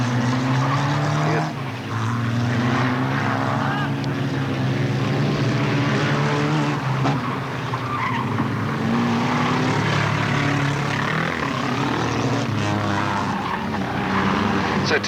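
Stock car racing at Alwalton Raceway in 1983: a car spins out on the track amid a continuous roar of engines and tyre noise, with a commentator talking throughout.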